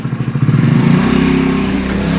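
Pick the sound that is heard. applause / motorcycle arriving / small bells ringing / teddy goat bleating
motorcycle arriving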